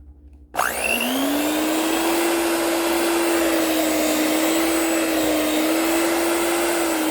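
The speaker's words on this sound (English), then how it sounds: "when you turn off your beater from high, slow, slow, slow." An electric beater switches on with a sharp rising whine and settles into a steady high-pitched motor hum, mixing cake batter at high speed, loud and close with no talking over it.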